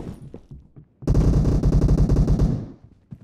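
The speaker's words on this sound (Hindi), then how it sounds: "ये गोली मारते हैं।" A single sustained burst of rapid automatic gunfire in the mobile game PUBG Mobile, loud and close, lasting about a second and a half, with a few faint scattered sounds before and after it.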